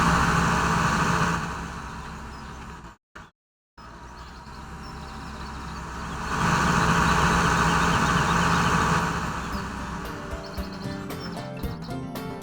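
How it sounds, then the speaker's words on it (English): A farm vehicle engine in the Farming Simulator 17 game runs steadily, its drone swelling and fading in loudness, with a brief cut-out near the start and rapid clicking toward the end. "when moving towards or away from a vehicle, the engine sound does tend to increase or decrease sharply"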